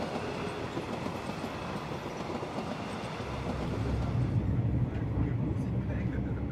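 A Rovos Rail passenger train rumbles along steadily on a long journey from Cape Town to Dar es Salaam, with a continuous rolling roar and rattling, growing heavier and lower toward the end, as a voice talks over it.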